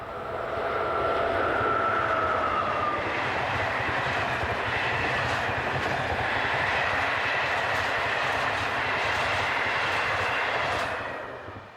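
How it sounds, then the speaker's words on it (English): A Class 363 electric locomotive hauls the Fridays-only Bratislava to Margecany passenger train in Slovakia, building into a loud, steady rolling roar with a whining tone early on, then easing away at the end; no one speaks. "the Class 363 electric is a universal loco in the Czech Republic, and so it is too here in Slovakia"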